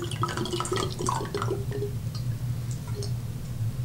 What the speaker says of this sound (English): Note the greater the angle you pour, the greater the aeration.